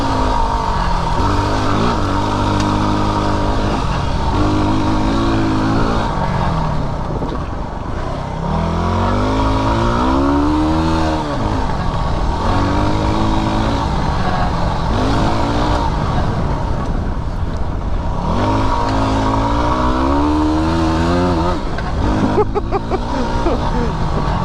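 A Yamaha WR250R dual-sport motorcycle engine while riding on fire roads, revving up and down in repeated rising and falling sweeps, loud and close, with someone talking over it.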